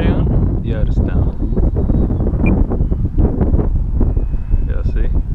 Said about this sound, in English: Yeah, too much wind.